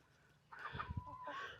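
Two rooster brothers, raised together since they were chicks, cluck and call in a backyard garden coop, with short close, throaty clucks in the middle and a higher, drawn-out crow-like call toward the end.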